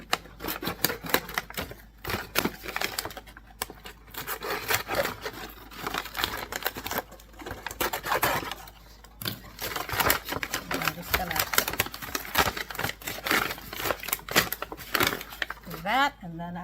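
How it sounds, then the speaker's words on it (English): Scissors or a blade slice down the sides of a paper flour bag in a home kitchen during cookie baking, a steady run of close crisp cutting and crinkling paper noises that continues for many seconds. "What I'm gonna do is I'm just gonna cut the sides down on this flour bag."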